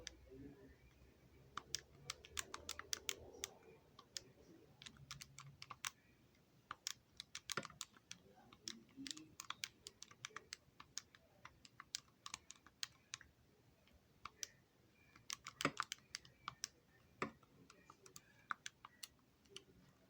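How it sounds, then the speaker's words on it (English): Numbers being keyed into a calculator by hand: quick, uneven runs of light plastic clicks and taps close to the listener, broken by short pauses in a quiet room. "we're going to manually input this in our calculator. So we simply type it in."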